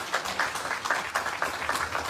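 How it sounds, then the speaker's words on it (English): An audience at the Maafa 2025 Conference breaks into steady applause, a dense rhythmic wash of many hands clapping, fairly loud and filling the room. "give a round of applause for our brother"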